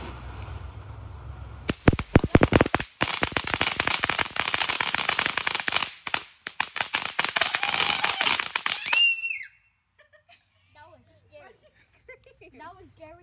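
Firecrackers set off at a Fourth of July gathering burst in a rapid, loud crackling string of pops for several seconds, then the noise cuts out and voices chatter quietly afterward.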